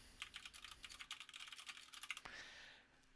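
Steady typing on a computer keyboard, a quick run of soft, close clicks at low volume, ending in a slightly louder keystroke and a faint hiss.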